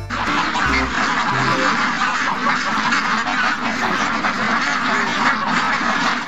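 A duck quacks loudly and continuously in rapid, raspy calls close to the microphone, with a few low tones briefly underneath at the start.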